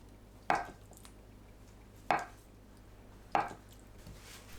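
Knife chopping kimchi and tofu on a cutting board, three sharp, evenly spaced chops about every one and a half seconds over a quiet background hum.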